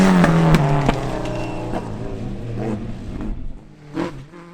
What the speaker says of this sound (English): Kevin McCarthy in the Evo 10 gets off to a steady start, and the changeable conditions should suit the four-wheel drive machine